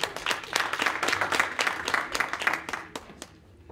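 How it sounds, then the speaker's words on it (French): Audience applause at a public talk on democracy, steady clapping from a crowd with a few sharp individual claps standing out, fading slightly toward the end. "On l'applaudit très fort."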